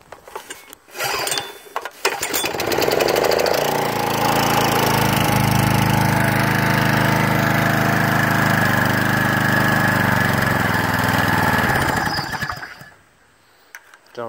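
Snapper lawn mower engine after a carburetor clean sputters to life after a couple of seconds, then runs at a loud, steady drone for about ten seconds before cutting out.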